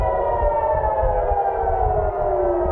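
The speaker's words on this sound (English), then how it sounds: "Sirens over Jerusalem." Air raid sirens over Jerusalem during the April 2024 Iranian drone and missile attack wail continuously, a loud, sustained multi-tone howl that slowly slides downward in pitch, with no voices.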